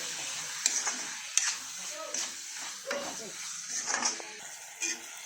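Chicken masala cooking in oil, with a spoon stirring and scraping the pan in intermittent clinks over a soft, faint sizzle.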